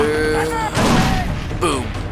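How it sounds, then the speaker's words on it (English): A grenade explosion in Far Cry 3, a loud broadband boom bursting in after a voice speaks, followed by rumbling debris and more voice over the tail. "Oh, crap. Grenade!"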